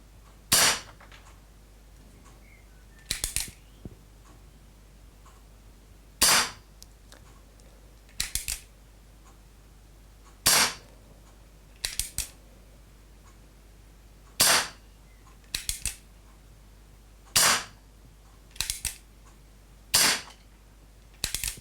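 An Umarex Colt SAA CO2 4.5mm air pistol fires a long series of sharp, dry pops a second or more apart, some with a quick second click just after, close and clear against a quiet hum.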